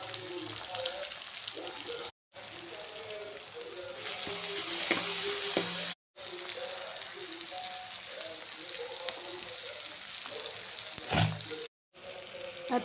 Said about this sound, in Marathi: त्यात घालून घेऊया लसूण. नंतर घालूया कांदा.